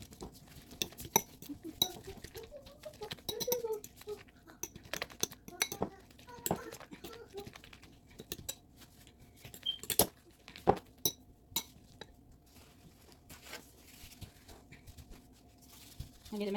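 Crepe roll batter and ingredients being mixed in a bowl, with irregular clinks and taps of a utensil against the bowl, close and fairly quiet, in uneven bursts with pauses.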